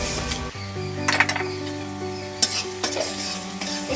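Moong dal fries in oil with tempering spices, bay leaf and dried red chilli, giving a close, steady sizzle broken by scraping stirs and a few sharp clinks of a utensil against the pan.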